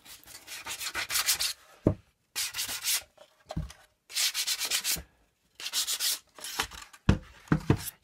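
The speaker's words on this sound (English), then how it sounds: "I've sort of rubbed and got a bit of an edge there." Painted wood rubbed by hand to wear an edge, a series of short scratchy sanding strokes in bursts of about a second with brief pauses between, close and fairly loud, no talk.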